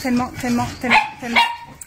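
Small dogs bark in short repeated bursts at close range, about four yips over two seconds, eager for a ball, with a voice talking over them.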